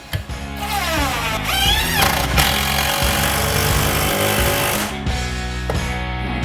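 A power drill whines loudly and continuously as the bit drives into tile, its pitch rising and shifting as it bores in, with grinding rumble beneath and no talking.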